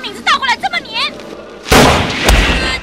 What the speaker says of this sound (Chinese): 这时蓝凤凰一记冷枪射出